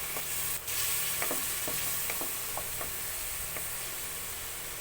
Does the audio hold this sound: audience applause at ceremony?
no